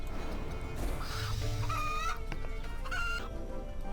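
Several chickens cluck and squawk in a steady back-and-forth with a few higher cackles, close and fairly loud over a constant low hum.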